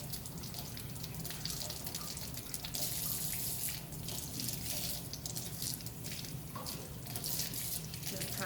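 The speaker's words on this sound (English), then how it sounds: "Get that water running through." Tap water runs steadily at good pressure through a tenkara fishing rod section being rinsed clean at a sink, a continuous close splashing rush with small drips and gurgles.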